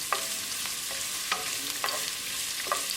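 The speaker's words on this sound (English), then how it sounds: "Now add ginger and garlic. Mix it. Cook ginger, garlic" Ginger and garlic fry in a hot pan while being stirred, with a steady sizzle under repeated, evenly spaced scraping strokes of the utensil.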